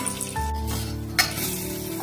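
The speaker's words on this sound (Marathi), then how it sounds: "आता हिंग, मोहरी, जिरा, हळद फोडणीला घातली." Tempering spices of asafoetida, mustard seeds, cumin and turmeric hit hot oil with curry leaves in a pressure cooker, giving a close, steady sizzle with a brief clink of a utensil.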